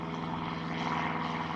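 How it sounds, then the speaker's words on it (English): A vintage propeller plane flies over a cricket ground with a steady droning engine hum, loud and sustained, and no one speaking. "Hear another plane go over."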